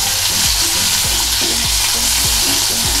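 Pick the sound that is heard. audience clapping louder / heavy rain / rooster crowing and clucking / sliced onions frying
sliced onions frying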